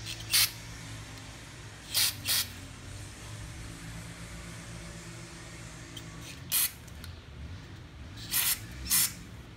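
Short sharp bursts of aerosol spray hit a part of a 1997 Snapper Big 6 lawn mower engine during gasket repair work, about six quick hisses spread apart over a low, quiet background.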